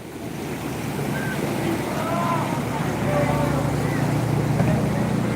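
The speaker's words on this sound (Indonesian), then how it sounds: "Ada ombak lagi, ada ombak lagi. Ada ombak besar." Big waves surging through a flooded housing estate in Makassar, a steady broad rush of churning water with wind buffeting the microphone and a faint engine drone beneath, while voices speak and shout over it.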